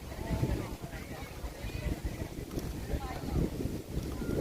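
Wind gusting across a tent campsite, a steady rushing buffet with irregular thumps and flaps against the microphone throughout, fairly close and constant.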